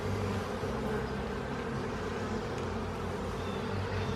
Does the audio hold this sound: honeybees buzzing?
yes